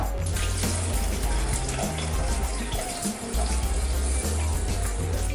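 Water is poured steadily onto rice in a pot, a continuous rushing splash with a low rumbling undertone, close and fairly loud, no talking.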